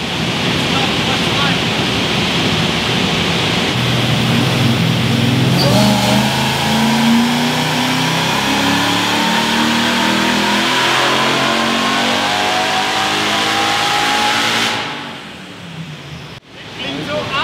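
A supercharged M113K V8 in a Mercedes C43 AMG (W202) revs hard up close, a deep bassy roar rising and falling under ongoing wind or rushing noise before easing off near the end; people can be heard talking.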